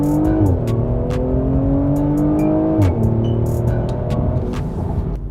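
Mercedes-Benz C450/C43 engine in Sport Plus mode while driving: a loud, steady engine drone with two quick gear-shift dips and crackling pops over the exhaust note.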